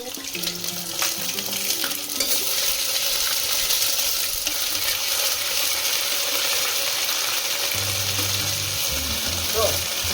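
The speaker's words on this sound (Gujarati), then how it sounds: "પહેલાં વઘારમાં જીરું મૂક્યું છે, પછી એમાં આદુ મરચાંની પેસ્ટ નાખશું." Steady hot-oil sizzle and crackle from a pan as ginger-chili paste is added to oil tempered with cumin, continuous and close, with a few clinks and low murmurs underneath.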